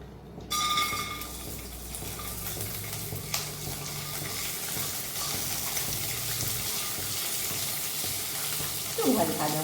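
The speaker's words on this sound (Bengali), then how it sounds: "এর মধ্যে তোমার এই কাজু আর এই বাদামটা একটু ফ্রাই করে নেবো।" Cashews and almonds fry in ghee for moong dal halwa, giving a steady close sizzle with occasional stirring scrapes, alone without talk.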